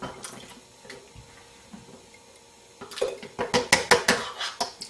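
Homemade salsa ladled through a funnel into glass canning jars: soft clinks and wet pouring at first, then a run of louder rhythmic glassy knocks and splashes as the ladle strikes the funnel and jars.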